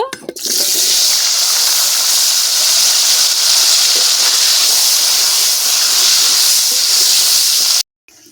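Potatoes fry in hot oil, giving a loud, continuous hiss that holds steady for several seconds before cutting off abruptly near the end.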